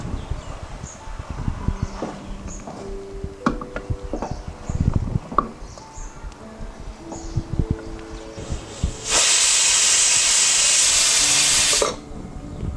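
A pressure cooker full of beef curry with spice paste lets off one loud, sustained hiss of steam lasting about three seconds, after a stretch of quieter kitchen clinks and clatter.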